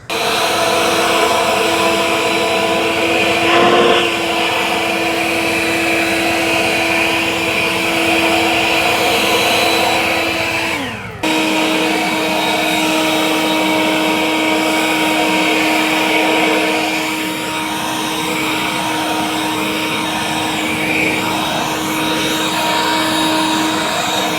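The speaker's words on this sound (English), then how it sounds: "So we're gonna put this guy to its paces and see what he's got, do a little blowing." A Worx 20V cordless turbine leaf blower runs continuously up close, a loud steady whine and rushing roar with a brief dip in pitch partway through as it clears sticks from a yard.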